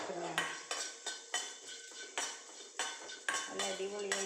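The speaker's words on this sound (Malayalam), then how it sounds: "ചെമ്മീൻ വറുക്കുന്നതാണ്." Dried shrimp roasting in a pan are stirred with a metal spoon, making a rhythmic run of close scraping clinks against the pan roughly every half second, with only a faint sizzle beneath.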